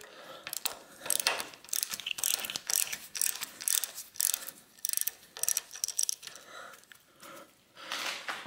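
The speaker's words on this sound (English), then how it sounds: "I'll go ahead and remove this nut here" A ratchet loosens the nut on a vintage bicycle crank's cotter pin, producing rapid bursts of close metallic clicking in uneven strokes with short pauses between them.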